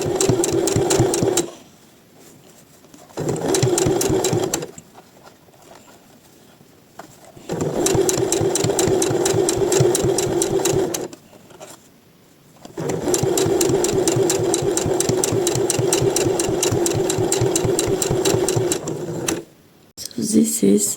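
A sewing machine runs in several long, rapid bursts while sewing the sleeve of a printed summer blouse, whirring close and loud between quiet pauses.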